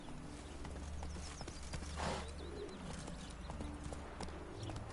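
Roach, the horse in The Witcher video game, clip-clops steadily at a walking pace, hooves quiet and close, while faint birdsong chirps in the background.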